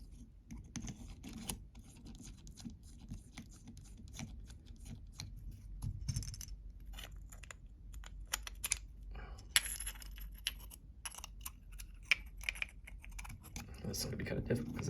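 A lock plug being keyed up with an Ultra Security QU-I.C load/test tool gives off close, irregular metallic clicks and small jingling pin sounds, scattered throughout, with someone talking at times.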